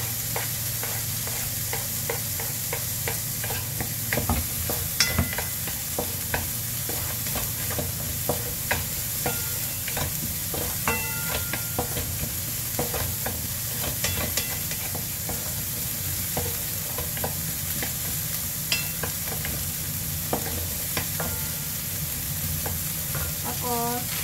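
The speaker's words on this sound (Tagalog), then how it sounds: "Tapos lagay ko na yung carrots para maluto ka agad." Carrots frying in a pan while being stirred for shepherd's pie, with a steady loud sizzle and the scrape and clink of a utensil moving the vegetables throughout.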